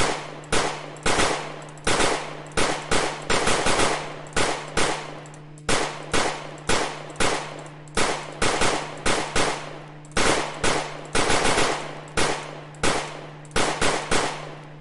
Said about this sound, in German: Mal sehen, ob ich genauso schnell im Schießen bin.